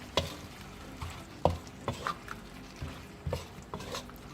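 Spicy black squid is stirred in a pan, with repeated scraping utensil strokes against the metal over a light sizzle, close and fairly quiet.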